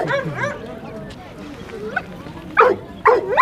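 Two sharp barks from a shepherd-type dog at the Beshbola dog market in Fergana, loud and close near the end, after a stretch of voices talking and faint market background.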